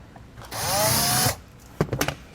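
Drilling a 3/8 hole while installing a trailer brake controller on a 2021 Mercedes-Benz: a loud close drill whine lasts under a second, followed by several sharp clicks and clatters of handled parts.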